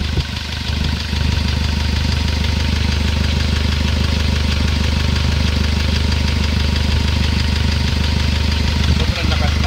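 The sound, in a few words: Hyundai Starex 2007 CRDI engine running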